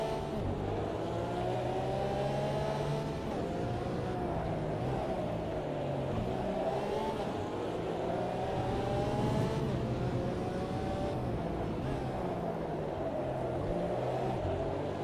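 A race car engine in the video game Automobilista 2 runs in a multiplayer race alongside GT3 cars. It drones steadily as the revs rise and fall through repeated gear changes, with other cars audible nearby.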